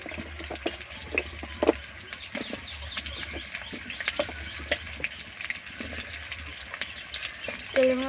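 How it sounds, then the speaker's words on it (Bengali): Potatoes frying in hot oil in a home kitchen, a steady soft sizzle scattered with small crackles and pops, with occasional stirring noises close by. "আলুগুলো বেশ লাল লাল করে ভেজে নিতে হবে।"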